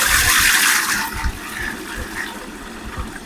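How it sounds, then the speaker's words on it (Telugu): Water pouring steadily into a cooking pot on the stove, measured out for basmati rice for a keema biryani, a continuous close splashing gush that thins slightly toward the end. "బియ్యానికి సరిపడా నీళ్లు పోసుకుందాం."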